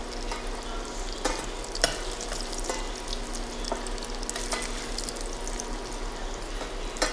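Food frying in a pan while being stirred, a soft continuous sizzle punctuated by repeated scraping and tapping strokes of a utensil, fairly quiet, with no talk.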